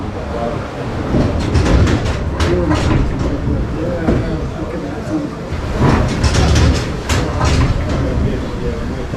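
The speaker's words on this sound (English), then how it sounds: "So how do you start a beam engine?" Steam beam engine at a canal summit being started, with rhythmic mechanical chuffing and clanking building in repeated bursts, fairly loud and close; voices talk over parts of it.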